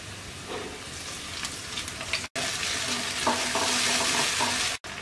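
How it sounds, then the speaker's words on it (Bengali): Chopped onions fry in a pan after a little water is added, giving a steady, close hiss and sizzle with stirring scrapes. It runs continuously apart from two brief silent breaks. "পেঁয়াজটাকে হালকা ভেজে নেব।"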